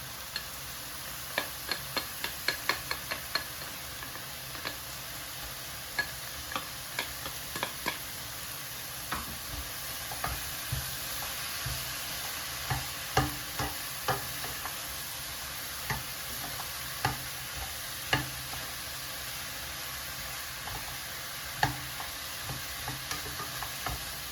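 Blanched frozen corn being stir-fried for chicken tomato spaghetti, a steady sizzle in the pan with frequent sharp clicks and taps of a utensil stirring and scraping, close and fairly loud throughout.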